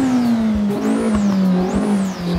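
Vauxhall 220 Turbo, SquonkBuilt edition, pulling hard under acceleration: a loud, close engine drone slides gradually downward while a thin, high turbo whistle rises and falls in two wavering sweeps.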